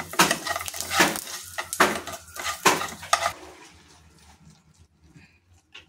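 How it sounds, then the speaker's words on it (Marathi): A spoon scrapes and clinks around a metal pan in a run of quick strokes, stirring turmeric and asafoetida in a tempering, then the stirring stops and it goes nearly quiet. "आता हे सगळं हलवून घेऊया।"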